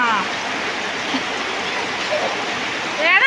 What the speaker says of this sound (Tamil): பயங்கர மழையும்